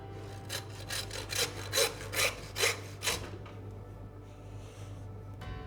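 A butcher saws the foot off a whole lamb: about seven rhythmic rasping saw strokes, close and clear, then the sawing stops and a quiet room tone remains.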